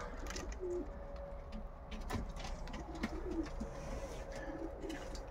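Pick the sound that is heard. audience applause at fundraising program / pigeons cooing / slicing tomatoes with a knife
pigeons cooing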